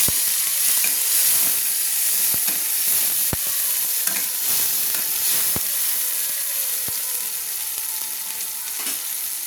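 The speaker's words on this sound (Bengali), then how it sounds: "দিয়ে দিচ্ছি পেঁয়াজ বাটা, পেঁয়াজ যে পেস্ট করে রেখেছিলাম সেগুলো দিয়ে দিলাম, দিয়ে নেড়ে নিচ্ছি" Onion paste fries in a hot pan with a steady, close sizzle, broken by sharp clicks and scrapes from a spoon stirring it for an egg kosha curry.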